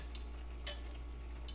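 Chicken and fish stew with vegetables is stirred in a pan over low heat, a faint steady simmer with a few soft utensil scrapes close by, no voices.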